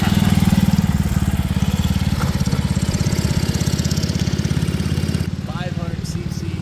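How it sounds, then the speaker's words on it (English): A 1939 BSA M20 500cc single-cylinder four-stroke motorcycle on a sidecar rally rig runs close by, a loud, steady, thumping engine beat that continues throughout, with a voice briefly heard over it near the end. "The original 4-stroke single cylinder dumper."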